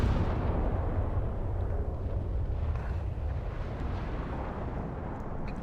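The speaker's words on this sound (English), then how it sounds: "I do like the explosions." Naval gunfire shells bursting in a warship video game, a continuous rumbling roar of distant explosions blending together over several seconds; no talk.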